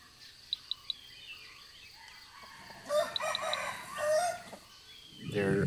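A red jungle fowl rooster crows in a forest setting, a clear crow rising mid-clip after a few short sharp calls, with other birds chirping faintly around it.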